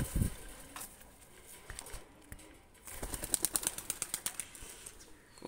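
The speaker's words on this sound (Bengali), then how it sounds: "কবুতরটা ছেড়ে দিচ্ছি।" A Pakistani pigeon let go by hand takes off with a burst of rapid wing flapping, a quick run of close, loud claps that fades as the bird flies away, with no talk.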